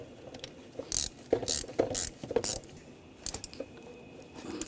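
A ratchet snugs down a bolt during a water pump replacement on a 2010-2014 Volkswagen GTI, with close, quick bursts of clicking in an uneven rhythm and no talk.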